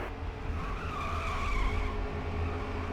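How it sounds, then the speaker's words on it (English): Racing truck tires squeal steadily at Pocono in a racing video game, a sustained high skid over a constant engine drone, with no talking. "Listen to those tires squeal, searching for that grip"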